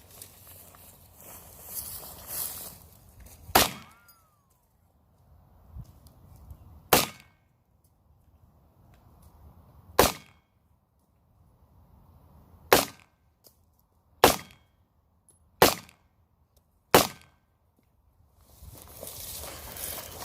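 Seven sharp gunshots from ammunition loaded with homemade recycled primers, spaced irregularly a few seconds apart, loud and close with brief echo, over quiet outdoor ambience.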